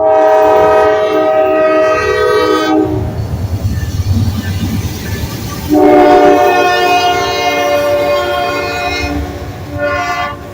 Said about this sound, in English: After the train passes by, I'll still go through the town area a bit just to take a look.